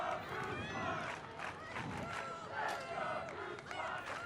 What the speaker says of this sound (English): Crowd is fired up out there, as they should be